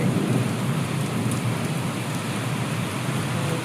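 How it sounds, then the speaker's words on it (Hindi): Steady rain pouring down outside a home, a dense, loud hiss of falling water with no gaps and a low rumble underneath. "ये देखिए जी बारिश कितनी सुंदर सुंदर है"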